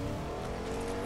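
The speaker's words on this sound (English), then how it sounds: "I hear another car." A car engine in a video game hums steadily at a distance as the car drives by, a brief low drone with a faint whine and no voices.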